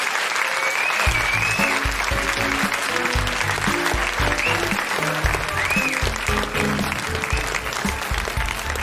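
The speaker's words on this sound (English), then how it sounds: "Big round of applause, everyone, for Daryl McCormack and Emma Thompson" A live podcast audience applauds steadily and loudly for the guests at the close of a comedy show recording, dense clapping filling the whole stretch with faint music underneath.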